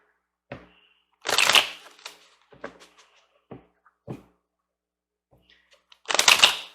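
Tarot cards being shuffled in several separate bursts, the loudest riffles near the start and again at the end, with lighter taps and flicks between them and no talking.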